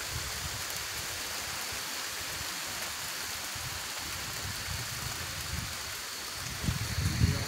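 Rain falls steadily outside near a garden before a storm, a continuous close hiss with a low rumbling undertone that swells slightly toward the end.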